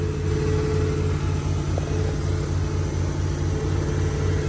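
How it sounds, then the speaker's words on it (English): The engine on a Dyna SC-14 firewood processor runs at a steady, loud drone with a constant low rumble, close by and uninterrupted, with no voices. "let's fire up the machine"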